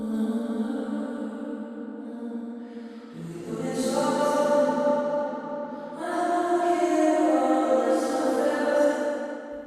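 Sung vocals washed in a long, fully wet atmospheric plate reverb, the dry voice lost in a sustained smeared wash that swells in two louder waves with tails ringing between phrases.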